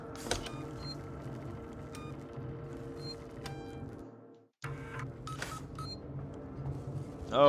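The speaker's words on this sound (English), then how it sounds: "I hear the beep, beep, beep." Electronic beeps and dialing-like tones sound inside the video game Alien: Isolation, a series of short, faint bleeps over a low mechanical hum, with a brief drop to near silence partway through.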